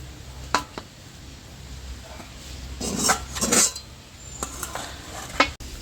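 A pot of semolina cooked in water comes off the stove with scattered metal clanks and scrapes of pan and utensil, a few sharp knocks and short rattles over a quiet kitchen background, no speech.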